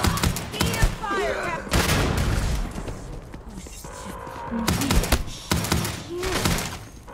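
Rapid EM rifle gunfire from the Starfield video game in bursts, loud and close, with thuds and booms mixed into a chaotic firefight and brief voices between volleys.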